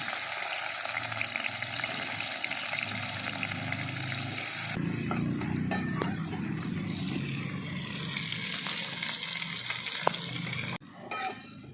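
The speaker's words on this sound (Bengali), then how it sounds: "দেখুন আলুগুলোকে হালকা করে ভেজে দিয়েছি" Potato pieces fry in oil in a wok with a loud, continuous hiss and crackle that shifts partway through and swells near the end before cutting off abruptly.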